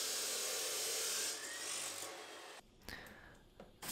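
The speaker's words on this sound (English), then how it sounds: "we're going to want to cut it down to 8 inches" A piece of 1/8-inch aluminum angle is being cut to length. A steady, hissing rasp of the cut runs for a few seconds, then stops, leaving faint scattered clatter, all fairly quiet.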